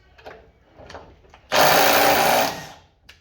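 A Snap-on 3/8-inch mid-torque impact wrench fires in one loud burst of about a second, after a few faint knocks, then winds down.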